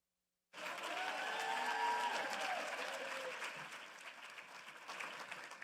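Applause from an audience at a teacher of the year celebration for county educators bursts in after a brief silence, a dense, sustained clapping from a crowd that stays strong and then eases slightly toward the end.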